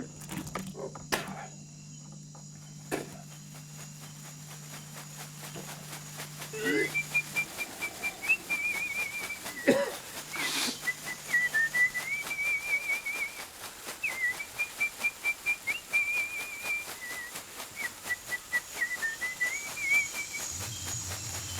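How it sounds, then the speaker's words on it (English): Ritual whistling in the Amazon with a shakapa leaf rattle: a soft, wavering whistled melody runs over a dry, rhythmic rustling shake, with a steady insect-like hiss beneath and a few faint knocks early on. "Alan whistles and beats his shakoppa to both calm the initiates and help bring on their visions"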